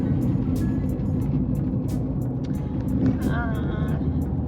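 A car drives along a road with a steady low rumble of engine and tires, heard from inside the car, with a few faint clicks and a brief tonal squeak near the end.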